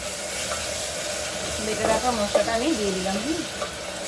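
Onions fry in a pan with ground spice paste of ginger, garlic, tomato, cumin and coriander, a soft steady sizzle with faint stirring, while a voice talks briefly midway over the cooking.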